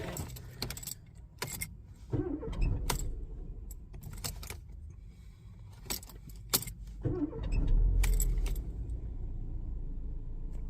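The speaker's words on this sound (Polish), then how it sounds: "Wyciągamy kluczyk, odpalamy." A 2004-2012 Mercedes A-Class W169 is started with its key: sharp clicks and key jangles come first, then the engine cranks, catches and settles into a steady, close idle rumble.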